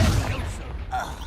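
Repeated Confringo blasting spells burst in Hogwarts Legacy, a pair of booming hits in quick succession over busy game noise, with a voice shouting over them.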